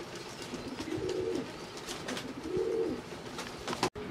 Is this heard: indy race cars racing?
no